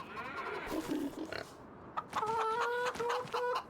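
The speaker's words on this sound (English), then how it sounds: "The chickens are gonna need feeding" Farm chickens cluck and squawk close by on a homestead in a farming game, a few bursts of clucking followed by a drawn-out, rising cackle with brief pauses between calls.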